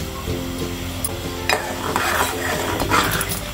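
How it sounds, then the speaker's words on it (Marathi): Malvani-style black pomfret curry bubbles at a steady boil in a pot, a continuous low simmering hiss with occasional light clinks of a spoon or utensil against the pot. "आता चांगली उकळी आली आहे."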